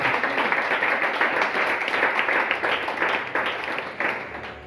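A church congregation applauds loudly and steadily, a dense continuous wash of clapping that fills the whole stretch.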